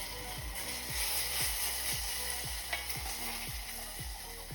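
Homemade baked beans with garlic and mustard get stirred in a pan. A soft, continuous sizzle runs under a hum, with a regular series of low rhythmic pulses and a faint clink partway through.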